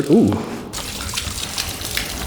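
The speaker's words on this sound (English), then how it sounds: "that vacuum that you hear in the box is just sucking up all the dirty water and soap and everything that's left on the surface" A wet vacuum sucks up dirty water and soap from a car's surface with a steady rushing, gurgling hiss, close by, with a brief voice at the start.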